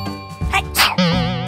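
A voice in a children's play setting imitates a sneeze, giving a couple of quick, loud, close bursts that end in a long, wavering vocal tone.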